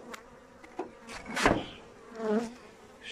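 Honeybees buzz around beehives in spring while rapeseed is in bloom, a continuous droning hum with individual bees swelling louder as they pass close by.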